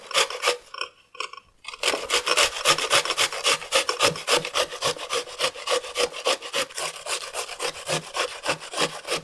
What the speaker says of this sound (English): before anything else we do, we have to grind this